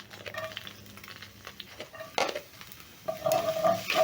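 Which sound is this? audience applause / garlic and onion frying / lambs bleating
garlic and onion frying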